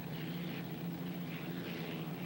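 A 1982 Seattle hydroplane racing boat engine drones steadily at a distance with a rough, sustained roar, slight swells in loudness, no talking over it.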